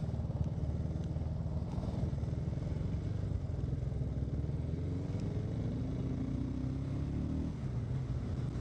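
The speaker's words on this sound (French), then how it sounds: "Allez avec ton scooter avance toi." A scooter rides past in traffic with a steady, nearby engine drone whose pitch rises and falls as it moves, set against a constant low rumble of traffic.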